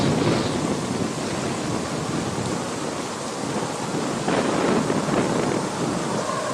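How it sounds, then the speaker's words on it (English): Katabatic wind roars steadily around a boat moored in Antarctica with lines ashore and anchors down, a dense continuous rush with loud gusts swelling near the end and no voices. "the catabatics are really starting to pick up a bit"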